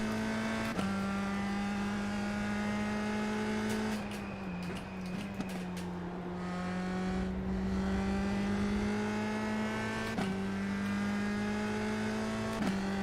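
Race car engine in the iRacing sim holding fourth gear through a corner, then revving up steadily on the way out, with brief dips at gear shifts; loud and continuous, no talk.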